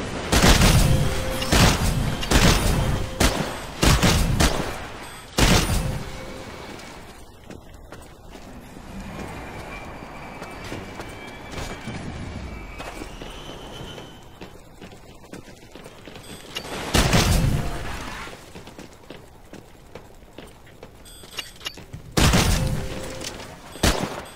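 Gunfire in the video game Titanfall during a live-fire training exercise: rapid bursts of shots and impacts come in clustered volleys with quieter stretches of game ambience and effects between them.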